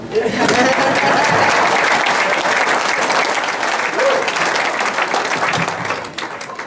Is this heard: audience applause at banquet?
yes